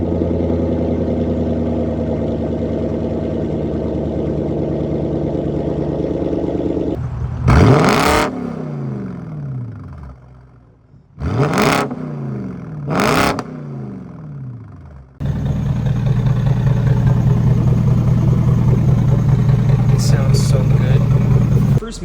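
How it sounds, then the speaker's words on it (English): A BMW N62 V8 engine starts up with a crank and quick revving bursts, drops into brief pauses between blips, then settles into a steady, loud, close-up idle hum. "I'll go ahead and give you guys a startup real quick."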